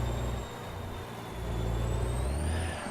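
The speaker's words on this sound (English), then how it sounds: "I love the sound of this truck." A deep, steady Caterpillar diesel engine in a Freightliner truck in American Truck Simulator rumbles with a faint high whine rising over it, continuous and close with no voices.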